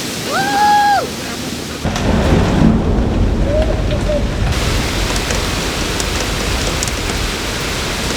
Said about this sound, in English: right now it's raining crazy outside